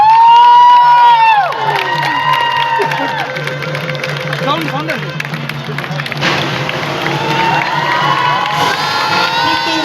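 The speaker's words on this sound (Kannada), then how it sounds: "ಇನ್ನೂ ಜೋರಾದ ಚಪ್ಪಾಳೆ" Loud indoor crowd cheering and clapping at a celebrity visit to a jewellery store in Puttur, with shouts and whistles rising over steady background noise, one voice calling out near the start.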